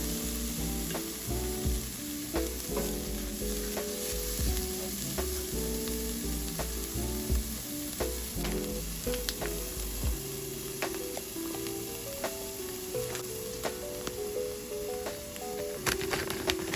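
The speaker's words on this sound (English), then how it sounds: "I will add the bag of Trader Joe's fried rice" Frozen Trader Joe's fried rice sizzles hard in a pan with cooked vegetables, a continuous loud crackle dotted with spatula clicks and scrapes throughout.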